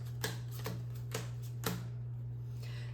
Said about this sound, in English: you're going to take the normal age cards and you're going to make 3 piles of 3 cards